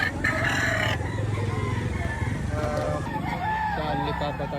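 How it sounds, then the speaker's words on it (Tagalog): A rooster crows amid a busy, noisy background with people talking throughout. "Ayan, nakaganda manok."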